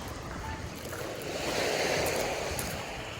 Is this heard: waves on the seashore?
yes